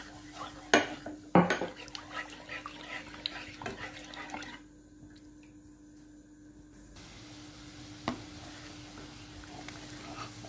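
Coconut milk and coconut cream simmer over low heat in a pot for Thai banana blossom soup while a spoon stirs, giving a few sharp clinks against the metal, quiet scraping and a hushed stretch midway.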